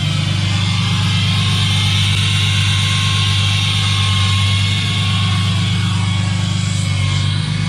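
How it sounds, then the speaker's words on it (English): Diesel truck fitted with a BD Diesel Howler exhaust brake, a loud, steady low rumble with a deep droning tone that holds evenly throughout, close and continuous with no talking. "this was the biggest selling feature for me, is just having a loud exhaust brake"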